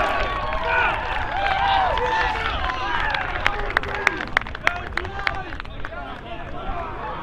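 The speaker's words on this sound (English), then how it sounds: "Big round of applause for Loyola beating Tennessee" A crowd at a college rugby regional championship murmurs and cheers, then scattered hand claps break out, sparse and uneven rather than a full ovation.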